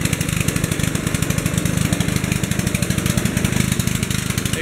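A motorized machine grinding coconut meat out of the shell at a festival street scene in Pavia, Iloilo, Philippines: a loud, close, continuous engine drone with a rapid, even pulsing chug.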